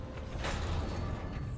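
A sci-fi sliding door in Starfield opens with a soft mechanical whoosh and faint creak, a brief quiet swish around the middle over low ambient hum.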